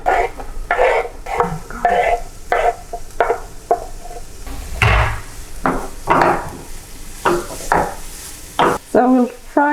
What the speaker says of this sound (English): So we'll fry the shallots and garlic for a couple of minutes with a pinch of salt